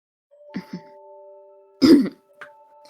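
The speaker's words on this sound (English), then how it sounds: "She coughs into her fist." A single short, throaty cough bursts out amid faint murmurs and a steady background hum, close and fairly loud.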